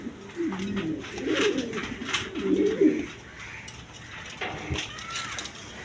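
A pair of adult Chuya Chandan pigeons coos close by in soft, repeated throaty phrases during the first half, then goes quieter, with faint background noise after.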